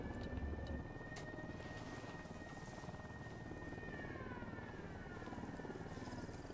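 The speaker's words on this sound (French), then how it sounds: "avec l'hélicoptère qui arrive, ça me pète un peu les couilles" Helicopter approaching in the video game Ghost Recon Wildlands, a steady rotor drone with a whining engine tone that holds throughout, continuous and fairly faint.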